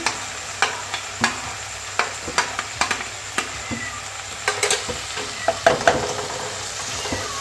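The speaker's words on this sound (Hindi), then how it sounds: "अब मैं इसमें डाल दूँगी कट की हुई बारीक जो मैंने प्याज कट की थी वो मैं डाल दूँगी" Finely chopped onions hitting a tomato masala sizzle steadily up close, with a spoon scraping and clicking against the pan at irregular moments throughout.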